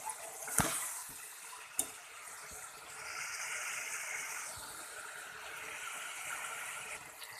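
Water poured into a pot of beef curry made with giant taro, a soft steady gushing pour that runs for a few seconds after a couple of sharp clinks, quiet and close.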